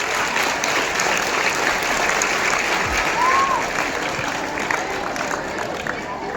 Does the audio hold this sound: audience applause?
yes